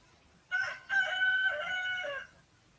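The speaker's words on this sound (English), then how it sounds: "And I got a chicken behind me." A rooster crows once nearby, a clear drawn-out cock-a-doodle-doo with a short opening note and a long wavering call, heard alone against quiet outdoor background.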